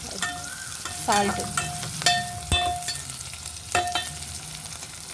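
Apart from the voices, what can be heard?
ivy gourd frying in oil with salt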